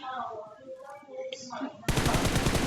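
PUBG Mobile gunfire bursts out suddenly in a dense, rapid spray, loud and continuous, following a stretch of quieter talk and ambient game sounds.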